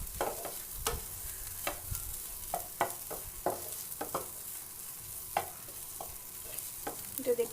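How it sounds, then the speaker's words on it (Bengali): Poppy seeds stirred in a frying pan, quiet scattered scrapes and taps of a utensil over a faint sizzle, irregular and close. "এখন পোস্তদানাটা দেওয়ার পর আমি এটাকে একটু জাস্ট নাড়াচাড়া করে নেব।"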